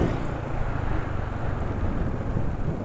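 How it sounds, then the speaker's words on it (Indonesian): A motor engine running on Castello oil idles steadily as a low, even rumble with broadband noise, close up and unbroken, with no speech. "suara mesinnya pakai oli Castello"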